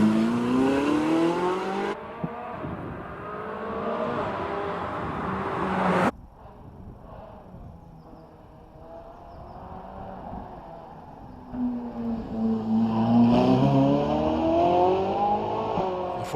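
A 2012 Ferrari 458 climbing the Prescott hill climb course, its engine note rising and falling through gear changes, loud at first, then fading as it moves off, then swelling again as it comes back nearer.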